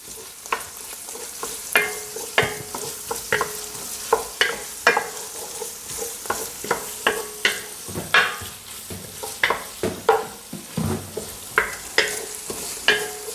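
Tomato paste is stirred into softened onions frying in a pot, a spoon scraping in repeated irregular strokes over a steady soft sizzle, close and fairly quiet.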